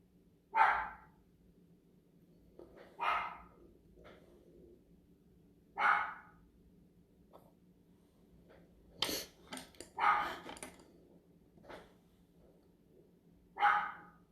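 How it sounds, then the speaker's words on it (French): A dog barks in single sharp yaps spaced a few seconds apart, about six distinct barks with a quick cluster of smaller sounds midway, moderately near over a quiet background. "Mon chien jappe"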